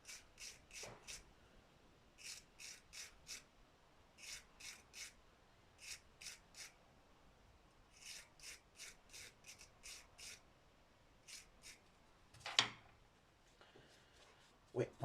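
A wire brush scrubs metal during the restoration of a Bernard W110 engine: about twenty quick, rhythmic scraping strokes in short bursts with brief pauses, fairly faint and close.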